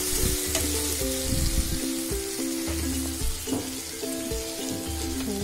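Food being stirred and mixed in a frying pan, with a steady sizzle and repeated scraping, clanking strokes of a spoon against the pan, close and continuous throughout.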